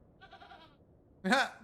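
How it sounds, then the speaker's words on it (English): A goat in the game The Excavation of Hob's Barrow gives two bleats: a soft, wavering one first, then after a short pause a louder, sharper one close up. "Maybe it was this goat all along."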